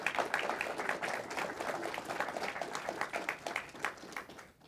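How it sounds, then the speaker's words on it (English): An audience at an economic forum session applauds the panelists. Moderate, steady clapping from a mid-sized room holds for several seconds and then tails off quickly at the close. "please give a round of applause to the panelists"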